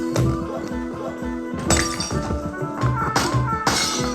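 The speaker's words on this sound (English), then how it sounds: "he's created a number of glass smashing sound effects that will randomly play" Glass smashing sound effects from the Syrinscape fantasy audio app, several sharp shattering crashes with tinkling debris, repeated in irregular bursts over a low background tone.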